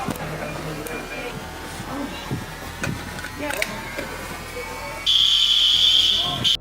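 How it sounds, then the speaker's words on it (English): A fire alarm begins ringing as a steady high electronic tone near the end, sounding over ongoing talk and room noise. "forcing the fire department to respond to the fire alarm"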